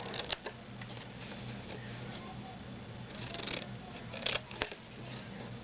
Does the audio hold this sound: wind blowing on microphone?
no